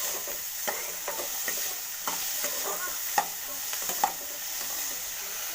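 Onions and two green chillies frying lightly in a pan for crispy onion samosa filling, a constant close sizzle broken by irregular scraping stir strokes, with no talk.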